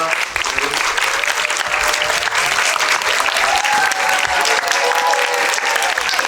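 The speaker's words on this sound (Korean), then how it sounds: "큰 박수 부탁드립니다." Loud, dense crowd applause fills a cinema during a stage greeting for the Korean film 'Sinmyeong', a continuous roar of many hands with faint voices mixed in, sustained at full strength throughout.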